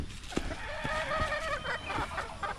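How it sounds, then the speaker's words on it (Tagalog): Hens cluck and a rooster crows inside a chicken house on a small farm, several birds calling in overlapping bursts at close range, with no one talking. "Ayun, mga chicken."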